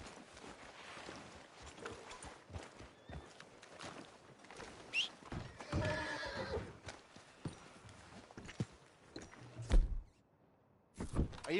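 Horse in the Red Dead Redemption 2 video game, with clip-clopping hooves and a loud whinny midway, amid scattered knocks and thuds before a brief pause near the end.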